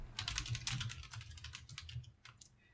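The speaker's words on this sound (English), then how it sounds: "Why are you typing this into Google?" Rapid clattering keystrokes on a computer keyboard, steady and close, fading slightly toward the end, with no talking.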